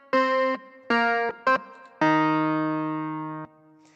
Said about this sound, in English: you can do the brass thing.